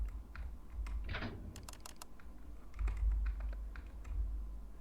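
Keys pressed on a computer keyboard while playing the Parasite Cycle game demo, a run of sharp, irregular clicks up close with short pauses between taps.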